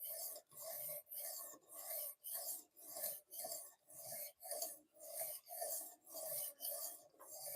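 A knife is drawn across whetstones in steady, even strokes, about a dozen close, rasping scrapes in a regular rhythm with brief pauses between them. No voices are heard.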